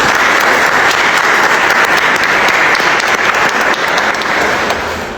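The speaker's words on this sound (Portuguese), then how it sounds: "Vamos aplaudir a palavra de Deus, amados." A church congregation applauds after a scripture reading, dense sustained clapping from many hands filling the space loudly before it begins to fade at the end.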